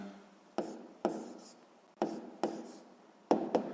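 Pen or pencil strokes on paper while writing out a sixth-grade maths exercise, six short scratchy bursts in an uneven rhythm, close and quiet in an otherwise silent room.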